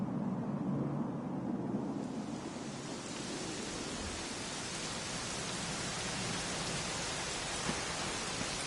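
Steady, dense rain in the video game Dragon Quest 11 pours down continuously, a broad even hiss with no voices and no pauses.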